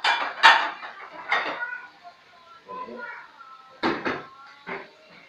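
Plates and a bowl clatter and knock together in bursts as rice is dished up for a Chinese kale and crispy belly pork meal, with nearby cutlery clinks and a voice talking between the sharp hits.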